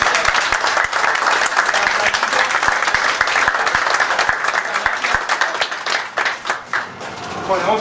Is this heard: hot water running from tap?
no